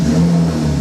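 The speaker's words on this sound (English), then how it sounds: "put your foot on the brake, and turn on your car." A BMW E90 sedan's engine starts and settles, a brief mid-pitched whir and rev with a steady low drone, close and fairly loud with no talk.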